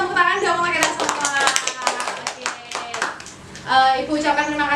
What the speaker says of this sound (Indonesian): tepuk tangan dong untuk kita semua